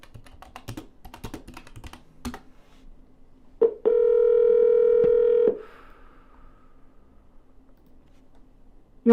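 During a real estate cold call, keyboard clicks and typing rattle irregularly before a single steady telephone tone sounds for about two seconds, then quiet clicking resumes.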